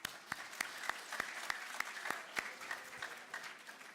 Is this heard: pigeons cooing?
no